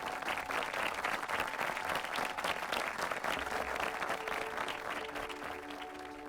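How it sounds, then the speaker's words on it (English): Audience at a convocation ceremony applauding, dense sustained clapping from a large crowd that holds steady and eases slightly toward the end. "Put your hands together,"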